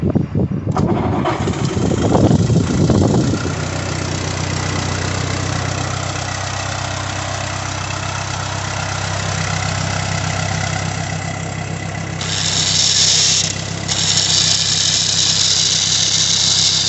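A gas M5 ZXB generator engine cranks and sputters for a few seconds, catches, and settles into a loud steady running drone that swells slightly near the end.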